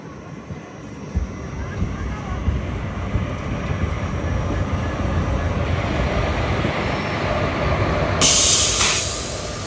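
A train at the Pakala Junction platform gives a steady, broad rumble that swells slightly, with a sharp hiss near the end.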